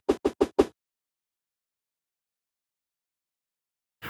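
Wing flap sound effect from a JavaScript side-scrolling game, heard as four rapid, evenly spaced soft flaps in quick succession, then silence, with another faint flap starting at the very end.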